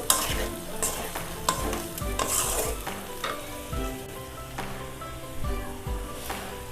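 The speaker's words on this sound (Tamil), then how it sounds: "உருளைக்கிழங்கு நல்லா ஆயில்லையே ஒரு 3 மினிட்ஸ் நல்லா ஃப்ரை பண்ணி எடுத்துக்கோங்க" Potatoes stirred and fried in oil in a pan while cooking a Tamil village-style potato fry, with steady sizzling and repeated scraping stirs, close and moderately loud over soft background music.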